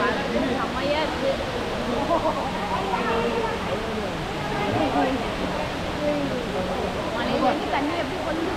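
Indoor waterfall in the Cloud Forest conservatory at Gardens by the Bay, Singapore: a steady, dense rush of falling water fills the space while people talk over it.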